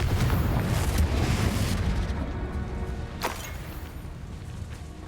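A Confringo explosive spell blast from Hogwarts Legacy, a loud broadband boom with a rumbling roll that fades over several seconds, with a sharper crack partway through.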